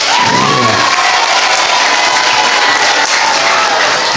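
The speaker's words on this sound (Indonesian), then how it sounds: "Tepuk tangan." An audience claps at an Islamic junior high school ceremony for the handover of the headmaster's post, a loud, sustained roar of applause mixed with cheering and children's shouts.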